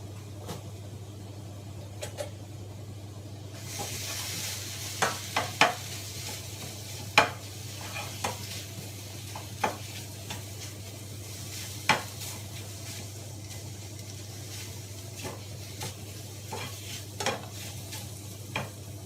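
Bamboo shoots being stir-fried in oil, a steady sizzle with a low constant hum beneath and repeated scraping, clattering strokes of a utensil against the pan, close and without speech.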